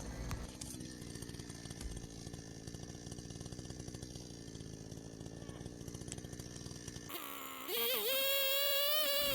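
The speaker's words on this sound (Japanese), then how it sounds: "チェーンソーの切れ味が悪くなってきました" A chainsaw with a dulling chain runs steadily and loudly, grinding through wood during demolition in rainy Niigata, then its engine pitch rises and wavers as it revs near the end.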